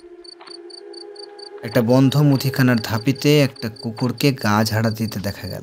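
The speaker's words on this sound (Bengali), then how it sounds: "ঝিঝি পোকার ডাক শোনা যাচ্ছিল।" Crickets chirping at night after a light rain, a steady repeating trill that runs alone at first, then continues under a narrator's voice.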